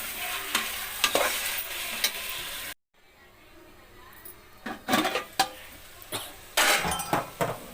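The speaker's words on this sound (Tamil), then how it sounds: "சிக்கன் பாருங்கள் எவ்வளோ நல்லா ரோஸ்ட் ஆகிருக்கு." Chicken fries in a pressure cooker while being stirred, giving sizzling with scraping and clinking strokes of a utensil against the metal pot, broken by a short near-silent gap before the stirring resumes in uneven bursts.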